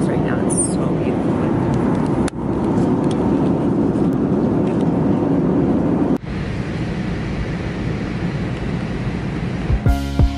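A loud, steady roar of broadband noise fills the clip, the interior drone of an airliner in flight over the Alps, with brief clicks and a soft chime near the end.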